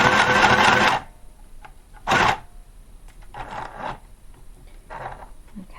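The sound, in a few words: mini sewing machine sewing cardstock paper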